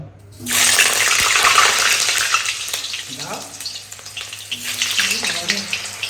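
Chili chicken fries in a pan at home, a loud steady sizzle with broadband spitting and hiss that dips briefly midway, with faint clinks and light stirring throughout.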